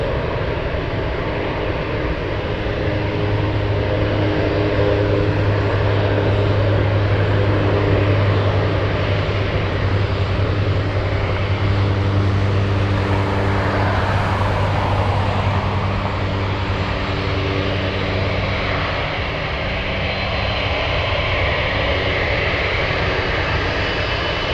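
An Atlas Air cargo plane on runway 33 at Anchorage gives a loud, steady engine roar with a droning hum that holds throughout, slowly shifting in pitch as it moves along.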